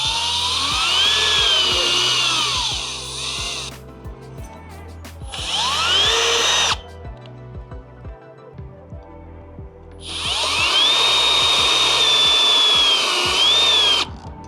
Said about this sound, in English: I'm going to go ahead and make this a little bit deeper